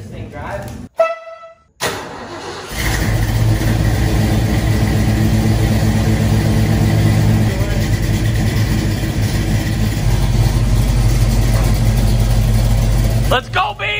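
A Ford Bronco with a new Blueprint engine running on its first drive, a loud steady engine drone that holds for about eleven seconds close by after a brief silence, with voices briefly at the start and end.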